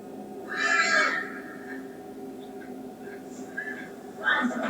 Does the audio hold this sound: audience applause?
no